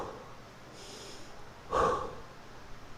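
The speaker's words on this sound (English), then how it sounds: "You'll take 3 deep belly breaths here." During a burpee, a person takes a deep belly breath: one strong, close, snort-like exhale through the nose after a softer inhale, with quiet room tone around it.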